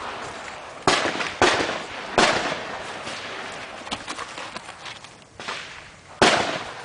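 An old Irish Army rifle fires at a target 100 yards away, with several sharp cracks at irregular intervals and fainter reports from other shooters between them, loud and close.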